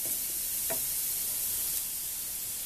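Sugar snap peas stir-frying in a hot pan, a steady broadband sizzle held close and even for a few seconds, with a brief scrape or stir partway through and no voices.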